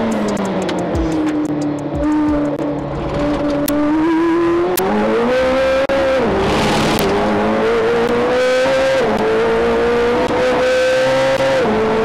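A McLaren 720S driven hard around the Donington GP circuit, its engine note loud and close from inside, rising and falling through gear changes with sustained high revs over twelve seconds and a brief tyre squeal.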